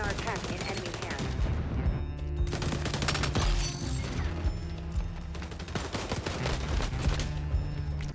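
Pistol gunfire in the video game XDefiant rings out as repeated sharp cracks and bursts, loud and steady throughout, layered over busy in-game sound effects.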